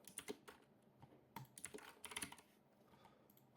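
Keys on a computer keyboard are tapped in quick uneven bursts, soft and close, with short pauses between clusters of keystrokes and no talking.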